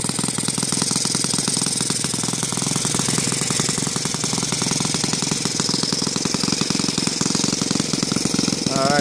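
A Saito FA-115 four-stroke model airplane engine on a 20:1 gasoline mix, fitted with a standard glow carburetor, runs loud and steady up close with a continuous rapid firing rhythm throughout.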